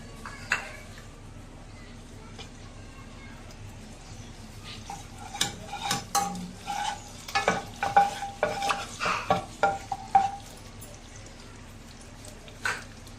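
Ginger garlic paste fries in about 50 ml of oil with a soft sizzle, while a utensil stirs and taps the pan in a busy cluster of clicks and scrapes midway. A voice speaks at times.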